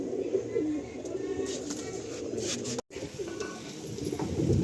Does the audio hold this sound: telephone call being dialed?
no